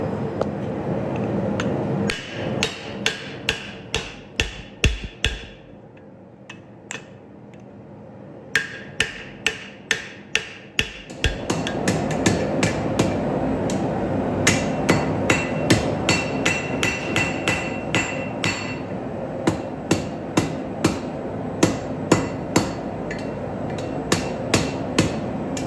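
Steel for an axe is forge welded under a hammer, giving sharp ringing strikes in steady, rapid series close by, over a constant roaring forge, with a short pause midway.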